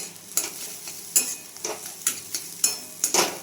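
Bread pakora filling stirred together with fried spices in a pan, with a quick run of repeated scraping and clacking strokes over a light sizzle, close and distinct, with no voices.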